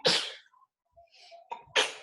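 Two loud, sharp sneezes close by, separated by a short pause with faint breathy sounds in between.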